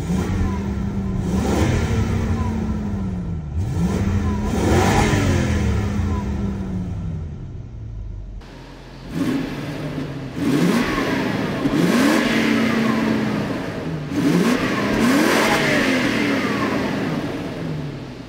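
A Lexus LS 400 engine revs up and down repeatedly, rising and falling whines in a series of bursts, close and loud, with a brief lull midway.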